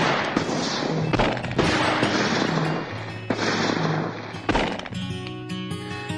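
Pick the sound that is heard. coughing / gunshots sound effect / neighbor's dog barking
gunshots sound effect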